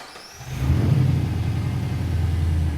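A 5.7-liter race car engine with no mufflers fires up, a quiet start then a loud, rough low-pitched roar that settles into a heavy, raw idle close by.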